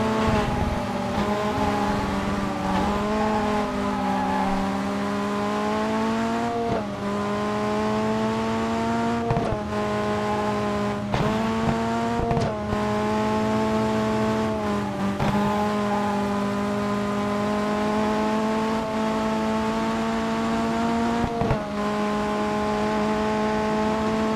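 Racing video game car engine droning steadily with pitch rising and falling through gear shifts and braking, loud and continuous throughout with occasional tire squeal.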